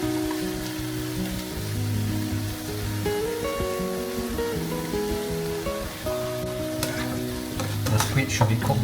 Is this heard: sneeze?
no